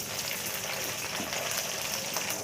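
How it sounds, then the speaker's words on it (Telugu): Green chillies fry in a couple of spoons of hot oil in a pan, a dense continuous sizzle and crackle, close and steady, with no voice. "ప్యాన్ ఈటెక్కిన తర్వాత టూ స్పూన్స్ ఆయిల్ వేసుకోండి ఇప్పుడు పచ్చిమిర్చిని వేసుకోండి"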